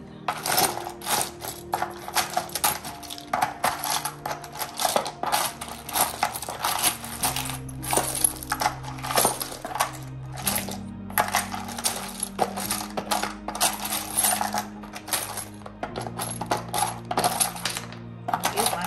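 Small metal charms clink and rattle as they are scooped with a spatula, a steady run of bright metallic ticks and taps close by over a low background music hum.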